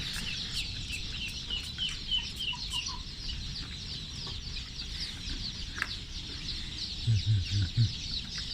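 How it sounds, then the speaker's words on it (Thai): Many baby layer chicks cheep steadily in a high, busy chorus, huddled under an infrared heat lamp on a cold day, with a few lower clucks near the end. "ลูกไก่ไข่ครับพวกนี้"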